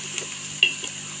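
Star anise and cinnamon sticks dropped into onions frying in oil, giving a soft, steady sizzle with a brief bright clink of a spoon or pan near the middle; close and fairly quiet, with no speech.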